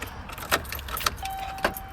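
Keys jangle briefly in a hand beside a Chevrolet Silverado work truck, a few quiet metallic rattles and clinks, close and faint with no talk.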